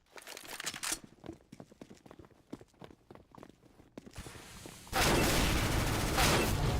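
P90 submachine gun fire in a competitive CS:GO match, a quick rattling run of shots and clattering movement, followed by a sudden loud sustained burst of noise near the end.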